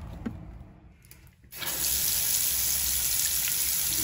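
Water from a Moen bathroom lavatory faucet with a 1225 cartridge suddenly bursts on and then runs as a steady, loud, close hiss and splash into the sink, with no one talking.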